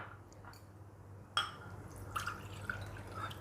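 Water, two cups in all, is added to a cooking pot while making a sweet temple offering, heard as soft splashing and trickling pours with a sharp first splash, fairly quiet and close.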